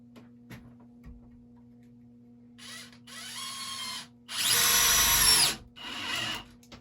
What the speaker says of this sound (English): Again, speed 2, and it is on the drill setting.